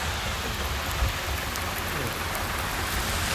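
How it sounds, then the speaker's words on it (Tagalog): Heavy rain pours down in a dense, steady hiss, loud and unbroken throughout, with no voices. "Laki ng ulan, no?"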